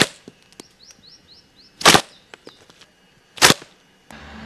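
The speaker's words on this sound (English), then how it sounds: "So now I'm taking one of the balls and I will shoot it against the stone." A slingshot firing a 19 mm lead ball against a stone, two loud sharp cracking impacts about a second and a half apart, with small clicks and faint chirping in between and quiet background otherwise.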